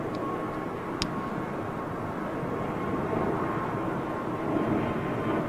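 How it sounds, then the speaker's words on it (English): A jet airliner's engines roar as a steady broadband rumble at London Heathrow Airport, moderately distant and fairly even, with a single faint click partway through. "That's a real whisper jet."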